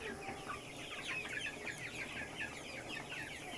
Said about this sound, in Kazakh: Ар жақтан балапандар бар, жемдерін жеп жатыр.